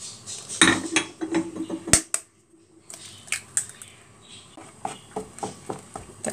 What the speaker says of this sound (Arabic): تقلبيهم بقى كويس